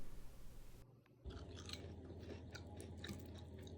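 Someone bites into and chews crunchy breaded cauliflower florets baked in an air fryer, crisp outside and slightly al dente inside; soft, close crunching and munching runs steadily over a low room hum, with no talking.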